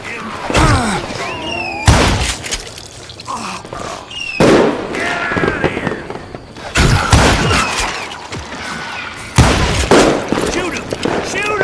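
Gunfire in the Western video game Call of Juarez: Gunslinger: loud, sharp shots in irregular bursts, ringing out and echoing, with whooshing and rattling effects between them.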